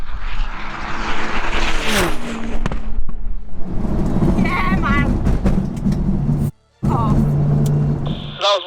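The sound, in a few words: race cars drag racing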